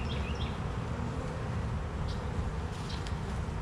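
Bees buzz around an open hive as frames are put back in, a steady dense drone close by with no talking over it.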